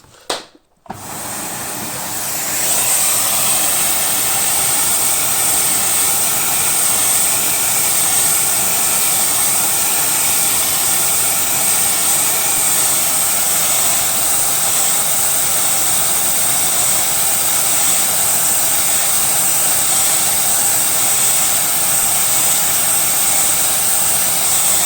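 A household vacuum cleaner (hoover) runs while a Blyss dehumidifier is being cleaned and serviced. After a brief click it switches on to a loud, steady, close whooshing drone that continues unbroken to the end.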